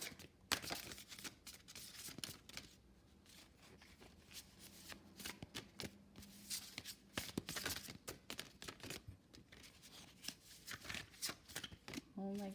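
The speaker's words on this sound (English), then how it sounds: "These cards are so big, they're a little awkward to shuffle" Continuous riffle and flutter of large, awkward tarot-style cards being shuffled, with bursts of flapping and snapping, close by and fairly busy throughout.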